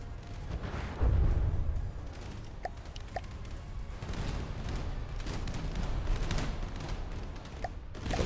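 Explosions from a bombing run against a battleship in From the Depths, a deep booming burst near the one-second mark over a steady rumble of continuous distant blasts and gunfire.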